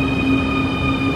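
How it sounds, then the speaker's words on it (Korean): A subway train arrives at a metro station in Ecuador, producing a loud, steady mechanical hum with sustained high tonal whine over low rumble, close by and with no talk. "바로 지하철이 왔네요."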